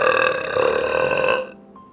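A single loud, long burp rumbles steadily for over a second close to the listener, then cuts off abruptly into near silence.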